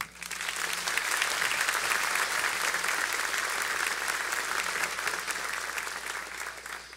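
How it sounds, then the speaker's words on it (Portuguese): A church congregation applauds, with a loud, dense, sustained burst of clapping that fills the room. It swells quickly, holds steady and tails off near the end. "Vamos aplaudir a Jesus?"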